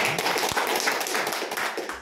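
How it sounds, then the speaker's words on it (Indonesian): Brief applause at a company workshop, a scattering of hands clapping with one sharp tap standing out, steady and fairly close. "Tepuk tangan buat Anda."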